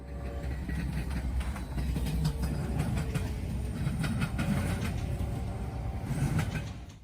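Norfolk Southern freight train NS-216 passes close by with a steady, heavy rumble and rhythmic wheel clatter throughout, fading slightly at the very end.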